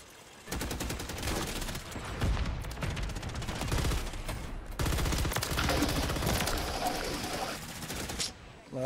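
Sustained automatic gunfire in Modern Warfare 3, shot through a wall, with dense rapid bursts nearly continuous across the span and a short break midway, loud and close.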